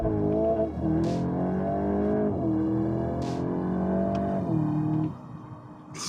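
A Volkswagen Golf GTI Clubsport hot hatch launches hard, its engine roaring loudly and climbing in pitch through several quick gear changes, with a little front-wheel slip, close by and without voices.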